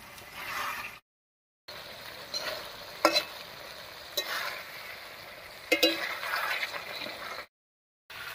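Village-style chicken curry with ash gourd simmers and is stirred in a pan over low heat to dry off its released water, a soft bubbling sizzle broken by spoon scrapes and clinks, with short silent gaps.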